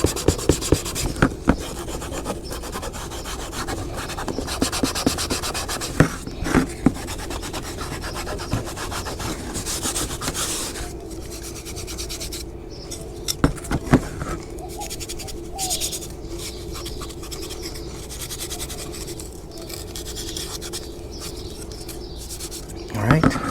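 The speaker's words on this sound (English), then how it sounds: "I'm gonna go ahead and cuff it up a little bit using my gray scuffing pad" A gray scuffing pad rubs across a car's painted surface in a steady, close, dry scratching that runs on and off throughout, with a few sharp knocks along the way.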